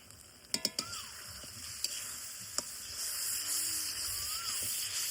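Spices with chili powder and turmeric are stirred in a hot pan for a goat tripe dish, with a few sharp clanks of a spoon against the pan early on, then a rising, steady close sizzle.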